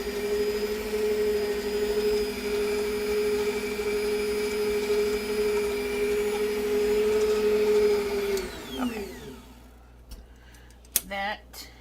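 An electric hand mixer beats lemon sponge cake batter with a steady, loud whirring drone that holds for about eight seconds, then shuts off, leaving a few faint clicks and knocks.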